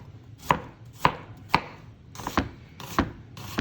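A knife julienning a halved onion on a cutting board: seven crisp, evenly spaced chops land roughly every half second, close and clear, with no voices.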